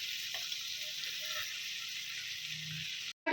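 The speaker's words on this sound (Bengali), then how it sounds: "এই তেলের মধ্যেই দিয়ে দিচ্ছি আমি পেঁয়াজ, আদা, রসুন, লঙ্কা বাটা।" Onion, ginger, garlic and chili paste sizzle steadily in hot oil in a home kitchen where prawns were just fried, a loud continuous hiss with faint stirring, cut off briefly near the end.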